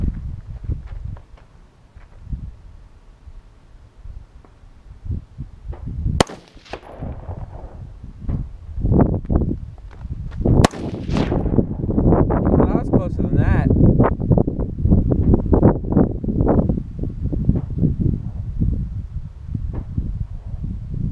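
Gunshots ring out at an outdoor shooting spot near Sycamore Creek, a sharp report standing out amid steady wind and rustle, with a group of people talking and moving around close by.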